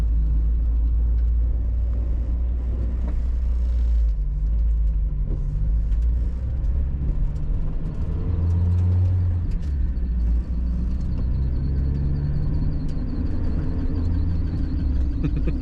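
A Mazda Miata fitted with a 12-rotor rotary engine drives along, its low rumbling engine note rising and falling through gear changes, loud and close with road noise underneath.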